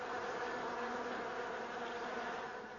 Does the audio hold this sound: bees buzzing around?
yes